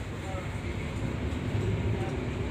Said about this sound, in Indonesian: baru aja akan tiba kereta Gaya Baru Malam Selatan dengan lokomotif RNB